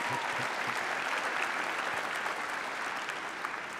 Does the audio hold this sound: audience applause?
yes